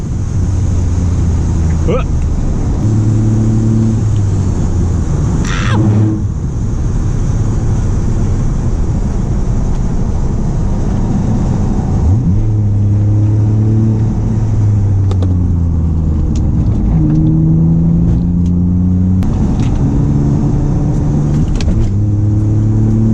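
A BMW E46 races at full throttle on a track while chasing a heavily modified Miata, its loud engine rising and falling through gear changes with strong wind rush and a voice talking over it.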